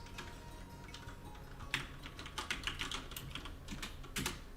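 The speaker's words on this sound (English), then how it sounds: "I think I need to type in stiletto boots." Typing on a computer keyboard, heard as quick, close bursts of light clicking keystrokes in an uneven rhythm, with no talking.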